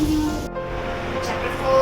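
Heavy rain pours outside the glass walls of a tourist lodge restaurant, a steady dense wash of noise heard from indoors, with a faint tone and light clatter over it.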